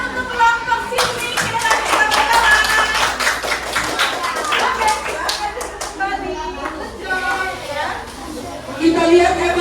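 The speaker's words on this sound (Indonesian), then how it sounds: "Oke, tepuk tangan untuk kelompok sini." A third-grade classroom of children claps for a group, with quick, uneven, close handclaps over lively chatter and kids talking.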